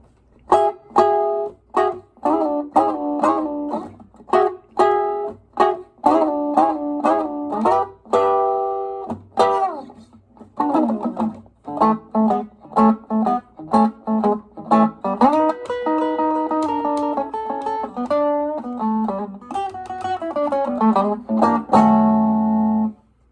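Electric guitar works through a Chicago blues verse in the early electric style, with plucked single notes and short chord stabs, some sliding, falling into a turnaround, loud and close with brief gaps between phrases.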